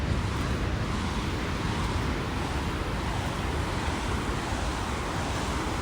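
Ocean waves at a beach: a loud, continuous wash of surf mixed with gusty wind noise on the microphone, steady throughout with no voices.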